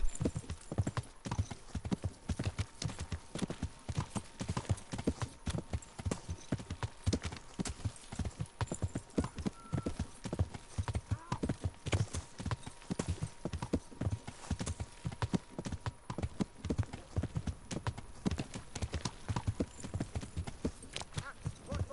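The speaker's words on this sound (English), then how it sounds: "I'm on a horse." Horse hooves clip-clopping as a rider travels in the medieval game Kingdom Come: Deliverance, a steady, even rhythm of hoofbeats continuing close and clear for the whole stretch.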